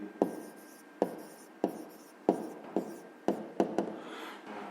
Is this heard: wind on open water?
no